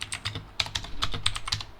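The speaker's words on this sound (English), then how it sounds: "You're typing Sima." Rapid typing on a computer keyboard, sharp clicking keystrokes in an irregular quick rhythm, close and fairly loud against a low background hum.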